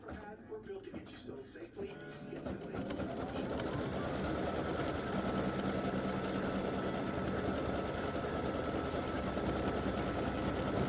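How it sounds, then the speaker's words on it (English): An embroidery machine stitches the folds and details of an appliqué bow design in red thread, a steady close whir of rapid needle strokes running continuously after a brief quieter start. "it'll go through and it'll stitch all the little folds and put some definition in this bow"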